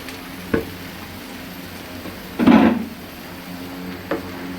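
Tomato paste added to ginger garlic paste frying in oil, a low background sizzle broken by a few sharp spoon knocks and one wet splatting burst as the paste hits the pan, close and without talk.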